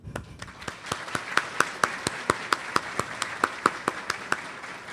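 Slow, evenly spaced claps ring out over about five seconds, a dozen or more sharp hits in a steady rhythm with faint background murmur, like a small audience beginning applause at an app launch event.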